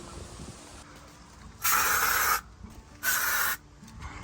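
Two bursts of aerosol insect spray hiss loudly and steadily, each lasting under a second, aimed at the floor area inside a car's cabin, with quiet pauses between them.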